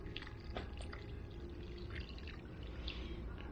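Water pours steadily onto soil, with soft splashes and trickles at a close, moderate level.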